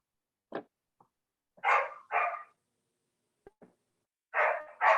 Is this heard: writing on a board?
no